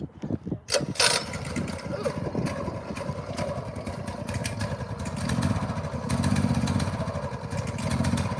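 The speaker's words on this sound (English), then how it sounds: "start it and rev it up, see if that doesn't sound like a good noise to be coming from an engine." A new scooter engine cranks, catches and runs, settling into a steady idle and then swelling into a few louder revs. The sound is loud and close, with voices faintly underneath.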